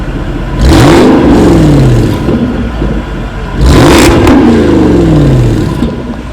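A 2010 Jaguar XKR, a 510 hp rear-wheel-drive car with quad exhausts, is revved loudly twice, each rev rising sharply then falling back to a steady, rumbling idle between.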